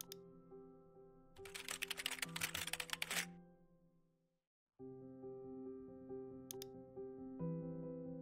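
Key clicks on a computer keyboard as a user password is typed, two short bursts of tapping with a pause between them, over a steady musical tone bed.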